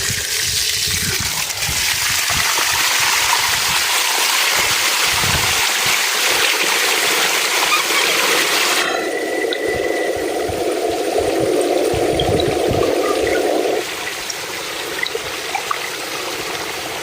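Water gushes hard and steady from an open gate valve in a small canyon, a loud, continuous roaring rush with no voices, its tone shifting partway through and easing slightly near the end.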